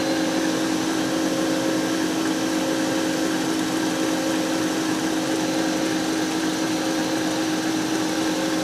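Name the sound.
egg whites being whipped into meringue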